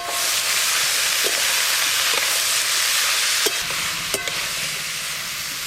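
Ash gourd pieces stir-frying in mustard oil with panch phoron, dried red chilli, salt and turmeric, giving a steady close sizzle and hiss with a few sharp clinks of a spatula against the pan, no voices.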